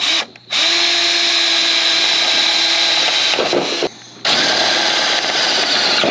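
A power drill whines loudly and steadily up close, drilling into a Chevy Nova car, cutting out briefly twice before spinning back up to full speed.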